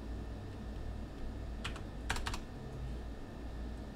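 A few quick keystrokes on a computer keyboard while entering an amount, a short cluster of faint clicks over a steady background hum.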